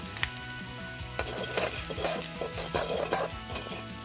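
Minced garlic sizzles steadily in hot oil while a utensil scrapes and clinks against the pan now and then.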